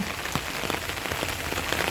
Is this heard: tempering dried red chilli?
no